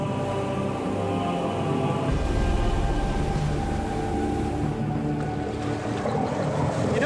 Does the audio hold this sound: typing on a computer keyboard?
no